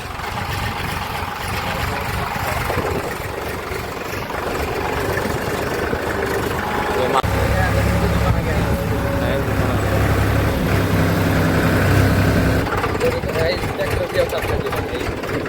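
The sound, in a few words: tractor engine running while driving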